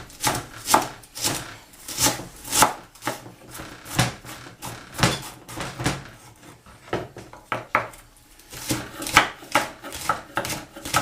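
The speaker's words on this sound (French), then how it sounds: "Après le persil, on s'occupe de la cive. Donc là encore pareil, on va la couper" Cive, the Caribbean green onion, is chopped into small pieces on a board, a steady run of sharp, close knife taps with brief pauses, and no one speaks.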